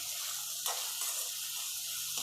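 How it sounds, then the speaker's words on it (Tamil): Onions fry with salt in a kadai, making a faint, even hiss. A soft clink of stirring comes partway through. "வெங்காயம் நல்லா வதங்கட்டும்."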